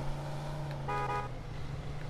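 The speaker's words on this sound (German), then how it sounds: "Zwar erst nachher, aber ich habe gehupt." A car horn in the Mafia 2 video game gives one short tonal honk partway through, over a steady engine drone and road noise.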